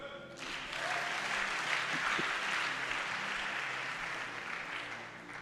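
A church congregation applauding during a worship service, a steady swell of clapping that rises quickly, holds full and even, then slowly thins toward the end.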